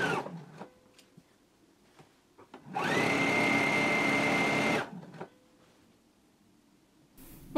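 A sewing machine runs in one continuous two-second burst, stitching the inner leg seams of trousers at a 5/8-inch seam allowance, near and loud between quieter handling noises.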